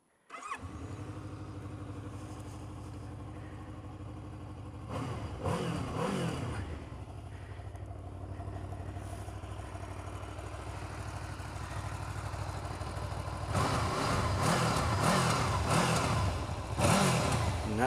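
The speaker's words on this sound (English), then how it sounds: "Let's give it a wee fire up and see what it sounds like." A Honda VFR800F motorcycle engine cranks and fires, settles into a steady idle, then gets several sharp revs and a sustained louder rev toward the end, heard nearby with no talking.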